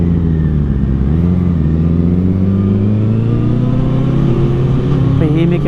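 Honda CBR1000RR Repsol Edition with a Taylormade exhaust idling and revving, a loud, close, fairly muted engine drone with rising pitch sweeps, with talk underneath.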